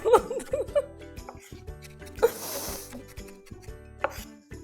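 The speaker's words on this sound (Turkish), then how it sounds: "Soğanımızı ince ince kıyıyoruz." A knife finely chops onion on a board, giving a series of quick, close taps amid laughter and chuckling.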